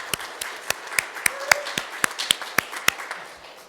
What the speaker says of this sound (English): let's give a round of applause to everybody who has a birthday this month.